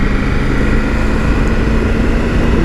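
A Triumph Tiger 900 motorcycle cruises along winding country roads, its engine a steady, loud drone blended with rushing wind noise, constant and unbroken throughout with no talking.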